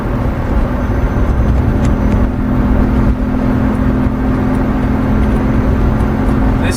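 A Volvo 240 with a 331 engine and stock manual transmission idles steadily through a resonator exhaust, a continuous close low rumble with a humming drone that stays even throughout.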